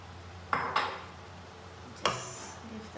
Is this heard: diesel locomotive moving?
no